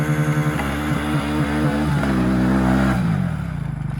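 An engine revs hard in the snow, bouncing repeatedly off the rev limiter in a fast, choppy stutter before easing down, loud and close with no voices.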